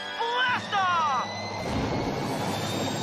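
A cartoon rocket roars off in a blast-off, a broad rushing rumble rising after a short whistling sweep of musical tones, with voices just before the launch.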